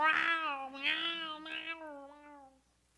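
A human voice mimics a cat's meow in a drawn-out, wavering cry with three rising swells that fades away at the end, close and fairly soft, heard alone.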